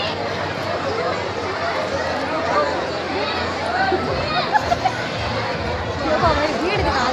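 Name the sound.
crowd chatter at a village feast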